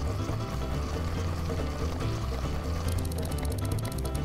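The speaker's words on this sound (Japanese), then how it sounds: "滝の音がいい。" Continuous rushing, splashing waterfall in a fishing video game pours steadily, with busy electronic game sounds layered over it.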